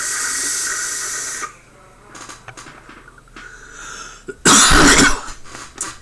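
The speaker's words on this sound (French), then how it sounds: "je m'étouffe, tellement je fais de vapeur" A vaper coughs hard and chokes after pulling a big cloud from a Kennedy Competition metal dripper, with a loud airy hiss of exhaled vapour and a burst of harsh coughing up close.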